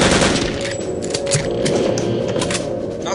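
Rapid automatic gunfire in the video game Return to Castle Wolfenstein, a loud continuous burst of rattling shots with no pause.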